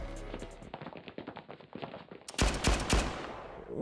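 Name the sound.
gunfire in the video game Blue Archive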